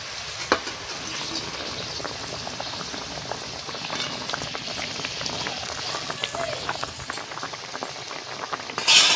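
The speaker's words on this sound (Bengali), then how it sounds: "বন্ধুরা দেখো তরকারিটা ভালো করে ফুটিয়ে গেছে" A pot of green-chilli curry bubbling on a stove, a steady dense simmer of popping bubbles and sizzle that runs throughout at moderate loudness, with a few faint clinks.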